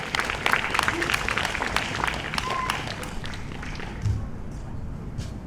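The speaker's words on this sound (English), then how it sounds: "Big round of applause to all the peer support workers who are helping people across this state deal with their mental health challenges" An outdoor crowd at a Vermont Mad Pride Day march and celebration claps for peer support workers, scattered fairly soft applause that thins out toward the end, with some voices and background noise.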